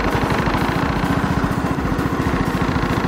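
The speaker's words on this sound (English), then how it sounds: "You can definitely hear where when you increase the RPM, it increases the throttle just enough to get there." A Cummins diesel engine with a P7100 governor runs with a loud, close, steady rhythmic clatter as the RPM is raised, its pulses even and unbroken throughout.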